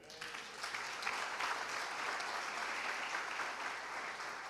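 Steady applause from a church congregation fills the space, dense and sustained at moderate distance without a break.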